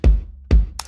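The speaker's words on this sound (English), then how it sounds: "Now you understand, since the regular bass drum sound sounds like this," Two deep, punchy bass drum hits from a music mix land about half a second apart, each a loud thump with a short decay and no other instruments or voices around them.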